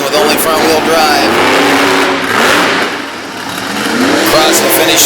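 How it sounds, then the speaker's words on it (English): Monster truck racing on a track at a Brookville, Pennsylvania event, one struggling with only front-wheel drive: loud engine roar and revving that dips briefly then swells again, with an announcer talking over it. "Now making the final corner, and you see Hansen struggling with only front-wheel drive."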